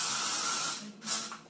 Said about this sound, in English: I'm gonna give it a spray